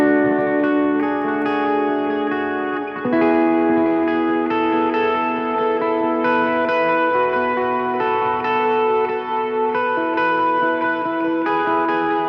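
An electric guitar plays the bridge melody of a song through effects, the notes washed in echo, reverb and slight distortion so they blend into a continuous shimmering wall of sound.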